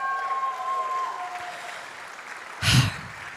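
Audience applause at the Mahindra XUV400 electric SUV unveiling, heard as a steady wash of clapping under a fading tone, with a louder burst near the end.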